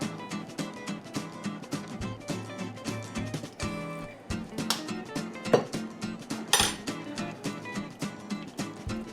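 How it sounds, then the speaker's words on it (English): Ramen soup stirred with sesame oil, a utensil clinking and tapping repeatedly against the bowl in quick irregular strikes, close and fairly loud, over a faint background hum. "Mixing it really good so it infuses the sesame oil"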